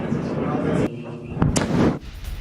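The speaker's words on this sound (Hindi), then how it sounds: "इजरायली हमले के बाद जोरदार धमाका होता है" A heavy blast after an Israeli strike on Lebanon, with a sharp bang followed by a loud rumbling roar, heard amid ongoing background noise and a broadcast voice.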